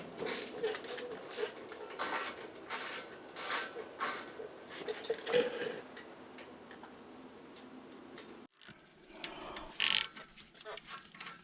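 A ratchet with a 14mm socket loosens the front brake caliper bolts on a 2005–2006 Honda CR-V, producing rapid close clicking bursts that stop near the end, followed by a brief metallic clink.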